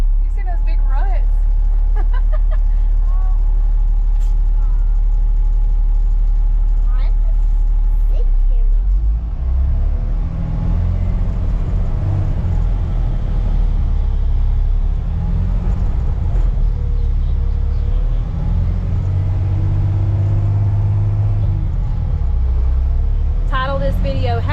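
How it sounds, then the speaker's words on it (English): The engine of an off-road haul truck driving through deep ruts drones loudly at a steady, deep pitch, then rumbles on more roughly while people talk over it. "How to Get an Off-Road Haul Truck Stuck"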